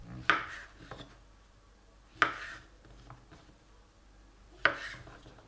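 A knife cuts unpeeled mushrooms into quarters on a board, making three sharp, close chops spaced about two seconds apart, with faint scraping and handling noises in between.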